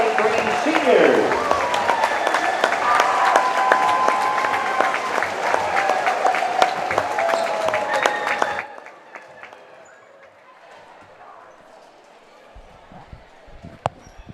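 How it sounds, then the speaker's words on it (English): A basketball gym crowd applauds the senior players in a loud, dense burst for about eight seconds, then cuts off to quiet room tone with a few scattered sounds and a single sharp knock near the end. "Ladies and gentlemen, have a nice round of applause for all your 2023 seniors."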